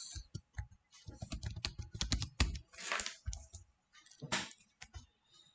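Rapid typing on a computer keyboard, clusters of close key clicks and clacks with brief pauses between bursts, alone and fairly quiet.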